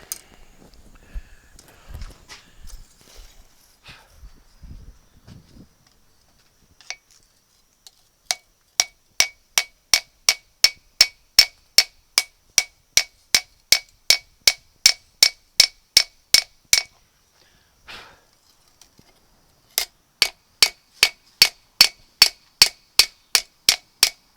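Steady, rhythmic hammer blows ring out as a blacksmith thins a metal edge on an anvil at a forge, a long run of sharp evenly spaced strikes with a brief pause, then another quick series.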